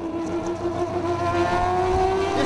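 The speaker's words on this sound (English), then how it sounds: "The distinctive sound of that Le Mans winning car with its rotary engine brought back some great" Rotary engine exhaust of the Le Mans-winning Mazda race car, a loud sustained buzzing drone with rising pitch as the car accelerates nearby.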